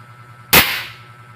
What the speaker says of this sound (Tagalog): Para ako mabibingi sa lakas ng putok. Grabe, high pressure talaga.